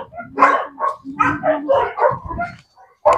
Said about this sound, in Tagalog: Nakakatakot yung mga aso na yun.